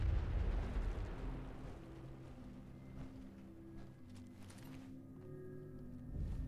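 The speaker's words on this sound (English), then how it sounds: "I'm detonating the bombs. Stand back!" Bombs detonating to seal tunnels in the video game Fallout 76, a heavy low rumbling blast at the start that rolls off into a fading roar and debris rumble.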